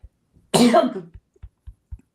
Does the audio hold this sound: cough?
yes